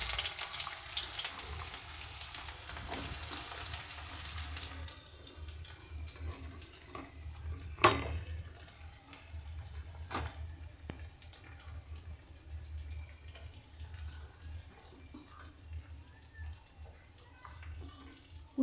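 Chopped onions hit hot oil for a chickpea and kidney bean curry, giving a soft, steady frying hiss with occasional faint clicks and pops throughout.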